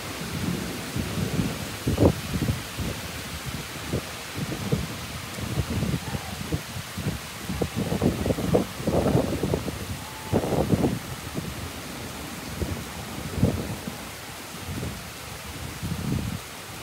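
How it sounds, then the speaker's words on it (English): A summer evening thunderstorm with driving rain and wind, low rolling thunder rumbling in repeated swells over a steady wash of rain, moderately loud throughout with no voices. "you can hear the thunder rumbling"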